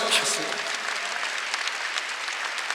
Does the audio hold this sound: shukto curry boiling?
no